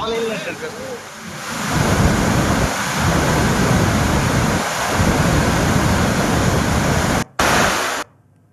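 Heavy rain pours steadily with deep rolling thunder in Telangana, a loud continuous roar that swells and rumbles throughout before cutting off abruptly at the end.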